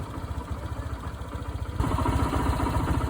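A Honda CB190R motorcycle engine idles after a cold start with a steady, pulsing putter, then settles into a slightly louder, faster idle partway through.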